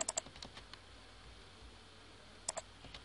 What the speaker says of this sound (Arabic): فاحنا دلوقتي هنتك دبل كليك على ايقونه البرنامج زي ما انتم شايفين